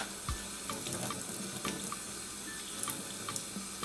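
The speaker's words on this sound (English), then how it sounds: "So I'm gonna take this bundle and then rinse it off." A bundle of braiding hair is rinsed under a running tap, a steady close splash of flowing water with small irregular drips and spatters, no talking.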